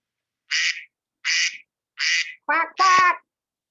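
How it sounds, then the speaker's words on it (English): A duck-quack buzzer sounds five short nasal quacks, the first three evenly spaced and the last two coming quickly together, loud and close against silence. "the buzzer went off"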